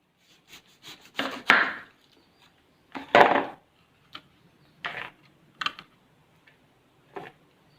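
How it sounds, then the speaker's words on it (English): Several sharp knife chops through pineapple on a board, spaced irregularly with short pauses between, close and fairly loud with no one talking. "I'll start by first chopping my pineapple."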